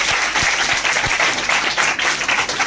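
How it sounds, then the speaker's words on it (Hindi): Classroom full of students bursts into dense, steady applause for a classmate, a close and loud wash of clapping that holds evenly for a few seconds without talk. "तालियां बजा दो जरा इसके लिए।"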